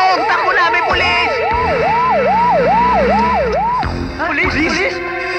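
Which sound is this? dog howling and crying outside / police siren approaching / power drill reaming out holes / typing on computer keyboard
police siren approaching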